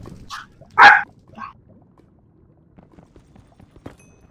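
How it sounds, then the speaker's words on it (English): A small dog barks in a Minecraft let's play setting: a few sharp yips, one loud bark standing out near the start, then fading to quiet background with a faint click. "Is that your dog, Poet?"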